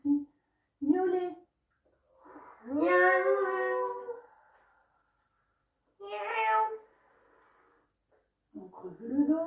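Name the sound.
people imitating a cat meowing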